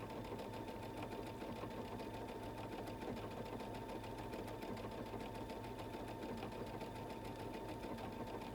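A Brother Luminaire XP2 sewing machine stitches steadily, its rapid needle hum continuous and close, easing its pace as it nears a stop point, with no voices present.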